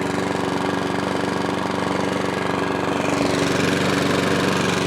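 A Stihl FS40 strimmer's small two-stroke engine runs steadily on choke, a close, loud, continuous buzzing drone with a slight change in tone partway through and no voices.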